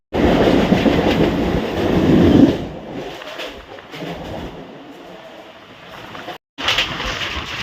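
A Katwa–Howrah local train rumbles loudly along the tracks, then fades to a quieter rolling clatter, with a brief dropout before the noise returns.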